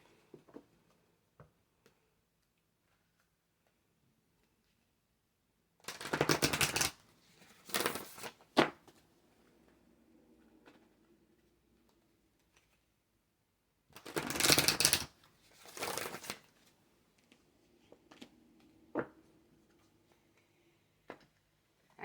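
Oracle cards shuffled by hand in two separate bursts of crisp riffling and rapid flutter, each a couple of seconds long with small taps and handling noises between, close and clear with no talking.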